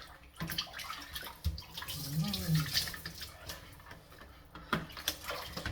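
Water runs and splashes while a baby is bathed for the first time, an uneven stream with sloshing bursts, mixed with a person's voice talking over it.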